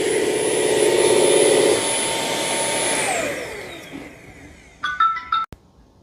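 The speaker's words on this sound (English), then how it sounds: "let's see how well it does on a big mess with the wet dry vacuum" Bissell CrossWave wet dry vacuum running loudly with a steady whine, then spinning down to a stop, followed by a few short electronic beeps.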